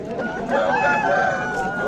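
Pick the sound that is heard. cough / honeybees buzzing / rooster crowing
rooster crowing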